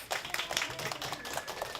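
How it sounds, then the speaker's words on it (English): Brief, fairly faint applause with scattered hand claps from a crowd, lasting under two seconds. "Can we give him a round of applause?"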